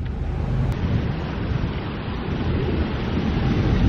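Water feature running at the front of a house, a steady, full wash of splashing, rushing water heard up close and fairly loud, continuous for the whole stretch with no voices over it.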